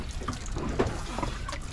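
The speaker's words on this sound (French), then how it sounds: "maintenant je me rince" Water runs and trickles while someone rinses off on a sailboat at sea, a steady close splashing flow with small drips, heard alone with no talk.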